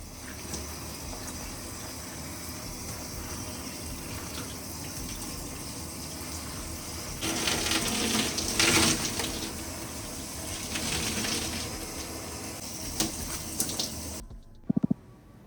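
Water running from a tap while hair is washed, a steady rushing hiss that swells louder and splashier midway as the flow is disturbed, then cuts off with a clunk at the end, no talking.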